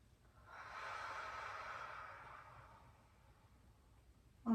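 A slow, soft breath drawn in during a morning yoga practice in bed, a gentle airy rush swelling for about two seconds and then fading out, close and quiet with no talking.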